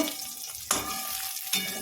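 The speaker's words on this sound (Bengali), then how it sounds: "এই দেখো মাছটা ভাজা হয়ে গেছে" A steady sizzle of fish frying in a pan, broken by two sharp scraping strokes of a utensil; no talking.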